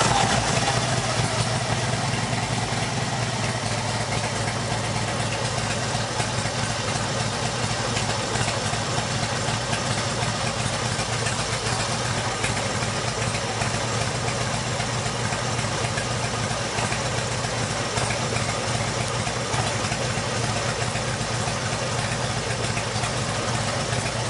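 A motorcycle engine idles steadily and loudly throughout, a constant low rumble with no clear start-up moment and no talking.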